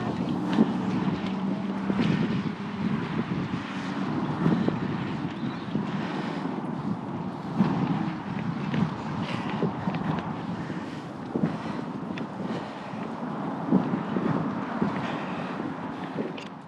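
Strong wind buffets the microphone on the Forth Road Bridge, a 1.5-mile span opened in 1964 crossing open water, roaring and gusting continuously with low rumbling throughout.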